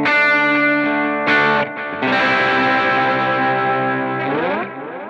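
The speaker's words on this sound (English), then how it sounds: "So this is my tone or my guitar without the FreqOut." Electric guitar played clean of any FreqOut feedback pedal, with a little delay on an ambient pedalboard: sustained, chorus-tinged chords swell and ring out, separated by brief gaps, with echoes trailing behind.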